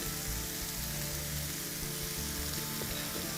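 An egg goes into a hot frying pan while an iftar dish is cooked, giving a steady, close, loud sizzle of frying that holds evenly throughout with no talking.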